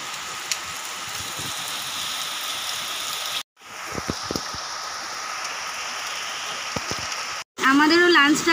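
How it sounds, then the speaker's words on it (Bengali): Heavy storm rain pours down in a continuous hiss across the whole span, with a few brief knocks and gaps, and a louder burst of voices or clatter near the end. "জোরে বৃষ্টি এসে গেছে"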